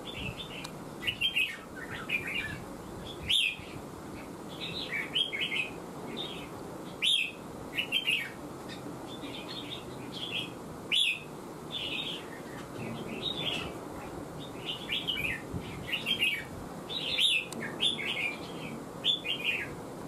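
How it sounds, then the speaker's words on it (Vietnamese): Red-whiskered bulbul song repeats steadily, short bright chirping phrases coming every second or so, close and clear over a low murmur of background noise. "chim đã nổ giọng rồi nhá."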